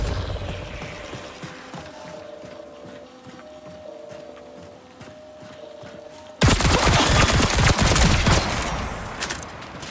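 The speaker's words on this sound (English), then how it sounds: "How am I already hearing gunshots?" Gunfire in a video game match heard at a distance for several seconds under game sounds and tones, then a sudden loud dense barrage of rapid shots filling the last few seconds.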